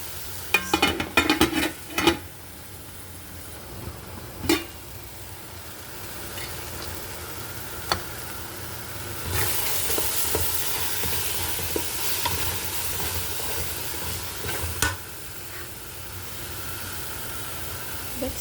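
Onion and garlic fry in a pan, a steady close sizzle with a burst of clattering stirs at the start and occasional scrapes later, the hiss swelling louder midway.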